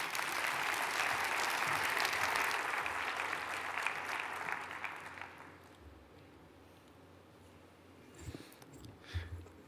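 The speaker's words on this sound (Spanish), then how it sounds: "un fuerte aplauso para él" Conference audience at the AUSAPE Forum opening gives applause for Nacho Santillana; dense clapping for about five seconds fades out, leaving quiet room noise with a few faint knocks.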